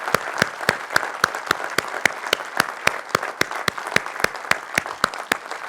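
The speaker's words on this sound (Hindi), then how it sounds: "इनके लिए जोरदार ताली" Hands clapping in quick, sharp, evenly spaced strikes, a small group applauding masters at an Atomy business felicitation event in India, close and steady throughout.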